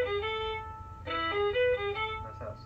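Fiddle plays slow notes of Jack of Diamonds, bowed tones with a gentle rocking motion in the bow, moving between a few close pitches at moderate volume, with no talk over it.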